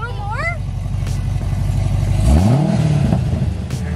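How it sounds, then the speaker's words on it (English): A car engine revs hard in a rising, roaring sweep around the middle, then settles back to a steady idle, loud and close, while people talk and react excitedly over it. "Rev it. Just go, room."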